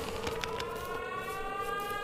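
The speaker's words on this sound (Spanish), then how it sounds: "la sirena esta que suena" A siren in a Mental Hospital V horror video game wails as a steady, layered tone over a dense rumbling background, with no one speaking.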